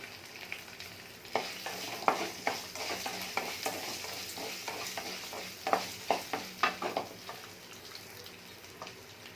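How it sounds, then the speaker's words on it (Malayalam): Two green chillies fry in a pan of browned ingredients for a mint chutney, a soft sizzle under repeated close scraping stirs that tap and clack in an irregular rhythm. "അതിലോട്ട് 2 പച്ചമുളക് ഇട്ട് കൊടുക്കാം."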